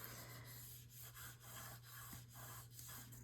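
A paper piece is burnished down inside a mini album with a soft, steady rubbing that comes in repeated strokes. It is faint and close, over a low constant hum.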